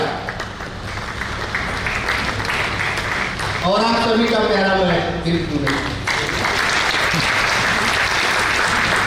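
Audience applause at a workplace stage event, dense steady clapping filling the clip while someone speaks over it through a microphone.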